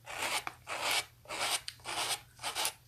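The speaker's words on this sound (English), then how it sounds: "with our snips, we're just going to rough up the edges" Metal snips scraping and roughing up the edges of a paper card, with five rhythmic rasping strokes close by and no speech.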